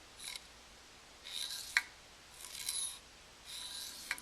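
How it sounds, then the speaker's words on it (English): A loose metal slug rattles inside a hollow metal crossbar as it is tilted, producing faint, sporadic scraping slides and a few sharp clinks in short bursts. "There's a little metal piece from, I guess, when they cut these holes out that's floating around in there."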